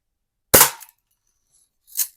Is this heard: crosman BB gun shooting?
yes